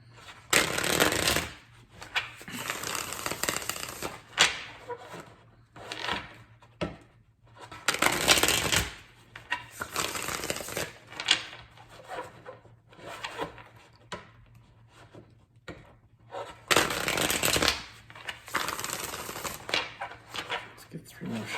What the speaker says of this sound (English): Get 3 more shuffles for Leo.